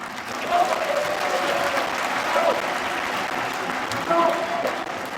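A large political rally crowd roars with sustained applause and cheering, a dense wash of clapping and shouts with occasional voices rising above it.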